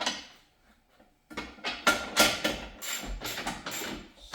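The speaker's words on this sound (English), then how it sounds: "So we can begin torquing now." Torque wrench tightening hitch bolts on a 2024 Tesla Model 3 Performance, a series of close metallic clicks and clanks in irregular bursts after a brief near-silent pause.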